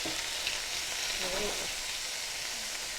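Thin chicken frying over high heat in a pan, a steady close hiss and sizzle throughout with brief stirring sounds and a faint voice in the middle.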